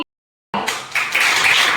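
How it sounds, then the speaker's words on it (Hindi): After a half-second of silence, an audience at a civil-services ceremony starts clapping in welcome, the applause quickly building into a full, bright round. "जोरदार तालियों से स्वागत करिए उनका"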